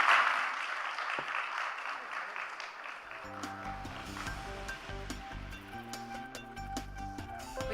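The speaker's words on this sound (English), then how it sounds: "please raise a warm applause for our panelists" Conference audience at a live panel event claps in a dense, steady wash of applause, then music swells in under the clapping, fairly loud and roomy.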